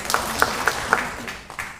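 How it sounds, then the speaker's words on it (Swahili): Short applause at a memorial gathering, with several distinct claps in a loose rhythm over a soft crowd murmur, moderately close and then thinning out. "tumpigie makofi."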